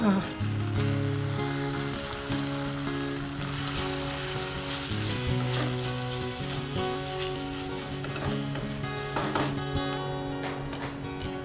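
Continuous sizzling of onions and tomatoes frying in a pan with occasional stirring scrapes, heard beneath background music throughout.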